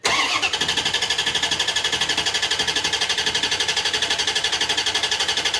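A C4 Corvette engine cranks over steadily without firing, its OptiSpark ignition disconnected, giving a loud, continuous rhythmic starter churn that runs through the whole stretch with no catch or idle.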